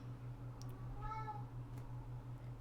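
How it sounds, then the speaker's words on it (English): A pet cat meowing indoors, one drawn-out meow heard close over a steady electrical hum, with no talk over it. "My cat's hooting and hollering."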